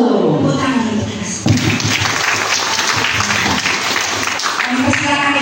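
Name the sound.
children's Sunday school applause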